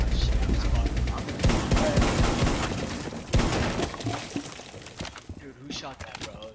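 Rapid bursts of gunfire from a firefight in Rainbow Six Siege, with dense crackling shots and impacts across the first several seconds, then thinner scattered pops and crashes, under loud game action.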